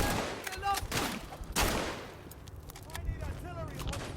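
Shotgun fire in the World War I trench shooter Verdun, several sharp blasts and background gunfire, moderately loud, with voices talking over the shooting.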